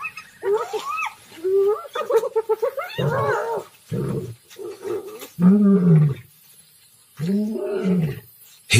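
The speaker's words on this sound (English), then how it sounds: "His roar is a powerful weapon." An old male lion roaring over a stolen impala kill in the wild, a series of deep, loud, close grunting roars in bursts separated by short pauses, rising and falling, with no talk heard over it.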